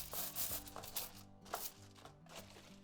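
Crinkly kitchen foil lining a paint tray crackles up close in irregular bursts, over a soft steady tonal hum in the background.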